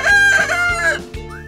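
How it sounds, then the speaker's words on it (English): A rooster crows once, a loud, drawn-out cock-a-doodle-doo with a strained, rising finish, heard up close and alone. "Rooster."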